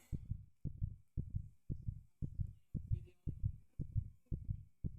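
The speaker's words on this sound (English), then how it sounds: "I could hear my heart beating rapidly" Rapid heartbeat sound effect, a steady run of deep double thumps repeating about twice a second, close and isolated with no talking.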